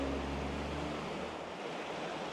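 Steady broadband rush of water flowing inside a road tunnel, a continuous hiss with low rumble throughout, alone with no talk.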